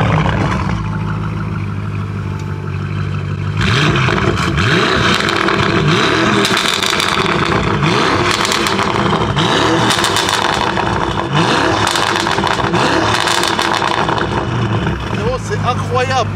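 A loud Bentley engine revs hard and repeatedly, with rising and falling swoops and a rough, aggressive exhaust roar that follows a quieter idle at the start, with voices talking over parts of it.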